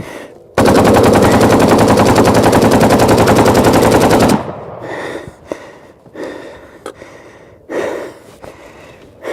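Kalashnikov rifle rounds going off in a fire: a loud, dense, continuous rattle of rapid shots for about four seconds, then softer scattered pops, crackles and heavy breathing.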